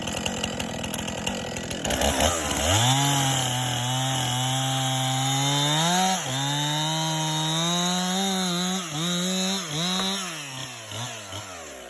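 A chainsaw bucking a log with a plunge cut, revving up from a rattling idle into a loud, sustained cutting whine that dips and wavers in pitch as the bar bites into the wood, close and continuous.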